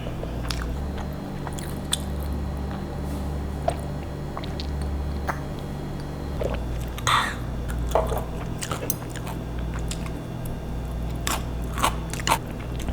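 Someone eats chewy noodles at an all-you-can-eat tteokbokki restaurant, with close, scattered crunching and squishy chewing sounds and occasional clinks over a steady low room hum.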